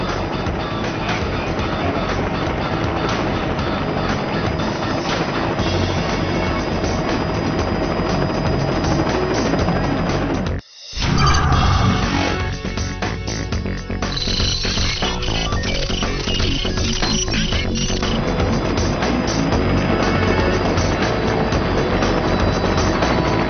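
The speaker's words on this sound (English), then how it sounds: "The most common aircraft that we use is an AS-350 A-Star" An AS-350 A-Star B-2 helicopter produces a loud, steady engine and rotor drone that runs continuously, apart from a brief dropout partway through.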